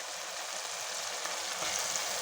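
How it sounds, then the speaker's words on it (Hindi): Green chillies and spices fry in a pan for chana dal, giving a steady, even sizzle that stays close and constant for the whole moment, with no voices over it. "सब्ज़ मिर्च, मसाले को अच्छी तरह से भून लेंगे।"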